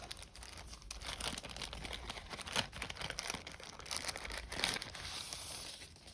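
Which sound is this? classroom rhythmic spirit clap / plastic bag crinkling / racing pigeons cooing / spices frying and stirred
plastic bag crinkling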